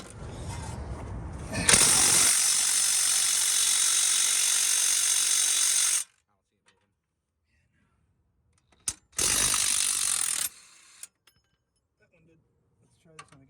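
A ratchet wrench works a 10 mm bolt on the strut of a Coyote-engined Mustang, giving two loud, continuous bursts of metallic clicking separated by a silent pause, close to the microphone.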